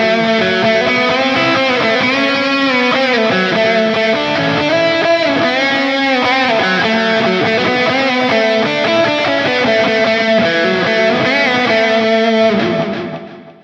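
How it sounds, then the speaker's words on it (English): Electric guitar, a Squier Debut Telecaster on the middle pickup position, plays a sustained, chord-rich phrase drenched in delay and reverb, notes ringing and overlapping loudly before fading out at the end. "Let's put a bit of a delay and reverb on with that."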